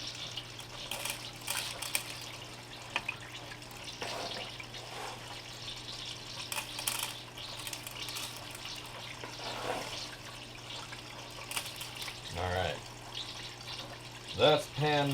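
Water runs steadily while paydirt is rinsed in a gold-prospecting pan, a continuous moderate trickle and splash with faint handling noises and a few brief louder knocks near the end.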